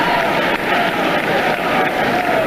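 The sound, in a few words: wrestling crowd cheering for a wrestler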